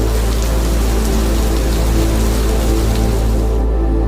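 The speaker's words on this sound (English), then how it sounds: "Rain tapped gently on empty roads." Steady rain patters on empty night-time roads, a dense even hiss with low rumble underneath, continuous and close, with no voices or traffic.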